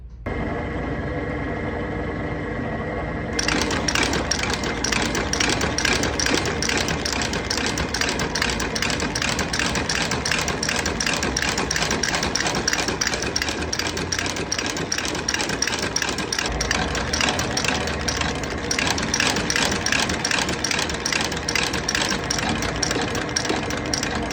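A stitching machine sews a new Italian leather sole onto the welt of a Barkers Chelsea boot, with a fast, steady mechanical chatter that runs continuously and loudly after a lower whir at the start, with no talk over it.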